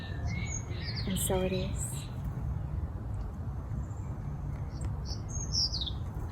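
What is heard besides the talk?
birds chirping outdoors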